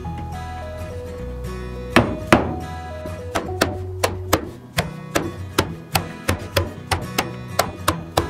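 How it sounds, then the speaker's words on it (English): Repeated hammer blows knock wooden dowels into holes in a DIY baby playpen, a series of hard, resonant thunks that come faster toward the end over a low musical drone. "Hammer all the dowels down into the holes."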